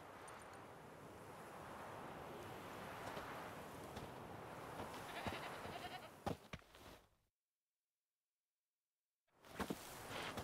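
A goat tied to a stake as forktail bait in The Witcher 3 bleats over a windy, surf-like outdoor ambience, then the sound cuts out to silence before the ambience returns.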